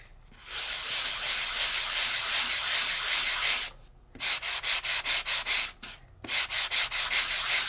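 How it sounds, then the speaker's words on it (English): Steady scratchy sanding on embossed paper with a sanding tool, first one long continuous rub, then a run of quick rhythmic back-and-forth strokes, close and fairly quiet. "And I can sand that embossing up"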